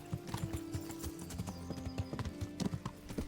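Horse hooves clip-clop in a quick, even rhythm in the medieval video game Kingdom Come: Deliverance, close and steady for a few seconds over a low hum.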